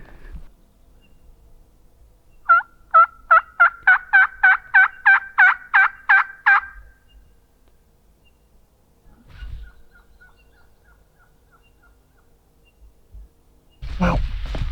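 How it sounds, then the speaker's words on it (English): A Merriam's wild turkey gobbles in a rapid burst of about a dozen loud, pulsing notes from below on public land, followed by quiet and a few faint distant calls. "I got a turkey gobbling underneath me."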